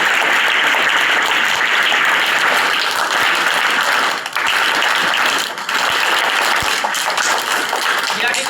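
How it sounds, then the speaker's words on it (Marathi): A school audience claps steadily to welcome the folk performer Shahir Sabne, a dense, sustained round of applause from a sizable crowd that barely dips throughout. "आपण टाळ्या वाजवून त्यांचं या ठिकाणी स्वागत करत आहोत"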